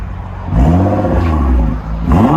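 A 2013 Nissan GT-R with a 3.8L twin-turbo V6 and Boost Theory cat-back dual exhaust revs loudly up close, rising in pitch, easing off, then climbing again in a second quick blip.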